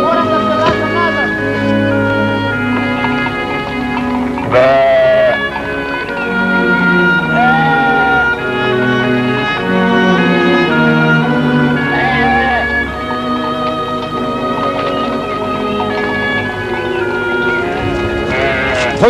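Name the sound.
sheep bleating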